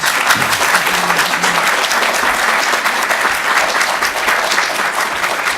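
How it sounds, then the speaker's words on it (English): Audience applause for candidates at a community meet-the-candidates night, a sustained, even roar of many hands clapping in a hall, loud and steady with faint voices underneath. "Ladies and gentlemen, a round of applause for our candidates."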